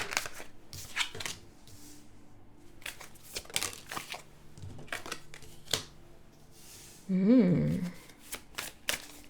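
Tarot cards are shuffled and dealt in close, crisp bursts of riffling and sharp snaps spread across several seconds, with a short spoken voice partway through.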